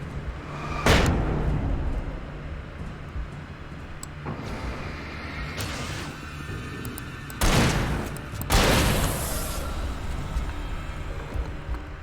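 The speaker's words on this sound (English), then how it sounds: "Flashbang." Flashbang grenades go off in Alan Wake as several sharp, bright bangs spaced seconds apart, loud and close over a low ambient rumble.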